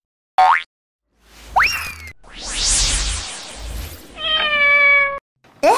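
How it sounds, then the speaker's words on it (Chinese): A kitten lets out a series of loud, close, rising meows separated by short pauses, with a rustling, scuffling stretch between calls and one longer, wavering cry near the end. "在叫妞妞，它没有在叫它妈妈，它在叫妞妞。"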